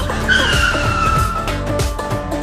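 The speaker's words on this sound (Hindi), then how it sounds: "आइसक्रीम वाला गाड़ी रुक गया" A cartoon ice cream van brakes to a stop with a loud, close tire squeal and skidding screech lasting a couple of seconds, over a rumbling engine and no speech.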